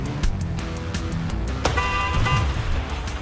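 Trucks barrel along in the video game ClusterTruck with a steady, close engine rumble, and a bright horn-like tone sounds over the second half.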